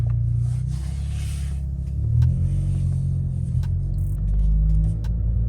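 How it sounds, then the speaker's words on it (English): Honda Accord Sport (2018–2022) pulling away from a stop, a steady low engine rumble with mild rising revs and road noise, heard from inside the cabin with no talking. "Take the e-brake off, tap the paddle shifters, and we're gonna go for a drive."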